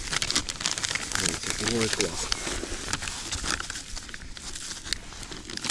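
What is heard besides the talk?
plastic bag crinkling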